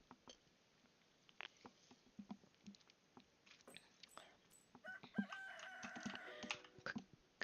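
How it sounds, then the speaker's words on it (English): Rooster crowing in the Stardew Valley video game, a faint clucking and patter building into louder, drawn-out crowing calls in the second half, with no talk over it. "Cock-a-doodle-doo."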